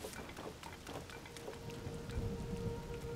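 In the video game Zelda: Tears of the Kingdom, steady rain patters with scattered distinct drops and a soft low rumble beneath, with no talking.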